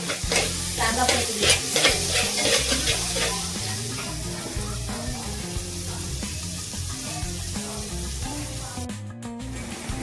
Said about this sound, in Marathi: कांदा टाकलाय कांदा चांगला परतून घ्यायचा